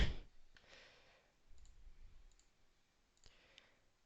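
Keyboard keys clicking and clacking in a few sparse, sharp taps with faint low rumble between them, fairly quiet and close.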